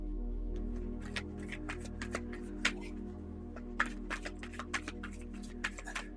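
A deck of playing cards is shuffled in quick riffles and taps, crisp clicks and flutters over a steady low room hum, with no voices.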